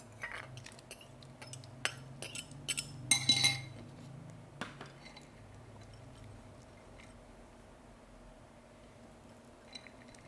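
Egg whites with spices and vegetables are stirred in a bowl, giving a run of light, close clinks and taps of utensil against the bowl that trail off into near-silence with one last faint tick.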